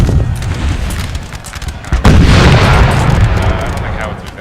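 Artillery firing canister shot in Napoleon: Total War, a heavy boom around the midpoint within a constant roar of battle, loud and close, with a voice speaking over it.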